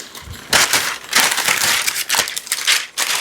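Sheets of parchment paper are handled and laid over keto pizza dough, producing loud, close crinkling and crumpling bursts in irregular clusters with short pauses, and no talk.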